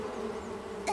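A cartoon bee buzzes steadily and close in a continuous drone for about a second.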